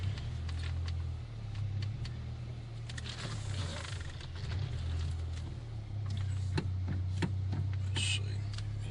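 A 1988 VW Cabriolet driving with its windows up, the engine droning low and steady from inside the cabin with occasional clicks and knocks, while people talk over it.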